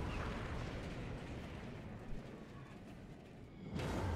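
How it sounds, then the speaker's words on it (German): Shells strike a ship in World of Warships as a dense, rumbling barrage of explosions. Muffled booms blend into a continuous roar, and a louder burst comes near the end. "die Schüsse kommen rein"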